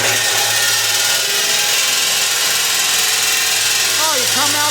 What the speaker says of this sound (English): Then I'll get the Sawzall out.